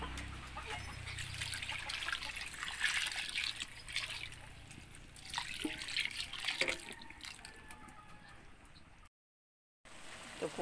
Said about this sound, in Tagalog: Lagyan natin yung paunang gata guys.